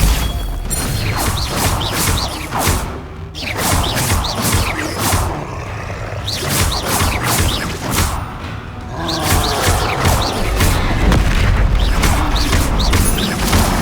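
Confringo fire spell blasts in the Hogwarts Legacy video game, a rapid run of booming explosions and crashes repeating through busy, continuous combat noise with only brief lulls.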